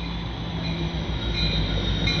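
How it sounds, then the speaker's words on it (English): A CN freight train with two locomotives passes close by, a steady loud rumble of railcars with a sustained metallic hum and faint wheel squeal, no talking. "Alright, we got a CN train, finally!"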